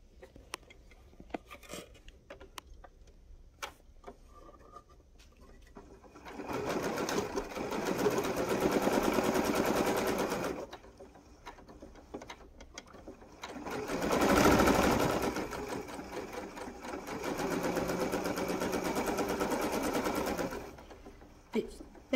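Sewing machine stitching pieces of a T-shirt quilt, running in two long bursts of rapid steady whirring separated by a pause, fairly close, with quiet handling noises in between.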